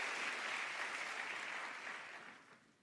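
A church congregation at an Indonesian sermon breaks into a brief wash of applause, a dense, fairly distant clatter of many hands that holds steady and then fades out.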